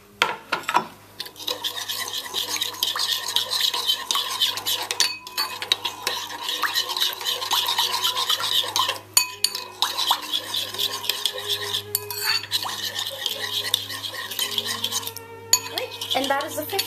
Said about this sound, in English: I'm just going to add these nicely and freshly minced garlic cloves